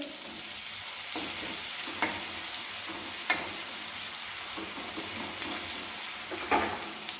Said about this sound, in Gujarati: પછી આદુ લસણ મરચાંની પેસ્ટ ધીમા ગેસે